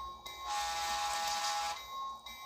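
A small electronic model train whistle from a DCC sound decoder sounds twice, a long toot followed by a shorter one, reedy and tonal against a quiet background.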